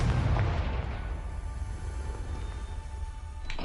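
A Confringo fire spell explodes in the Hogwarts Legacy video game: one loud, deep boom at the start that rolls into a rumbling decay, with a faint crackle near the end.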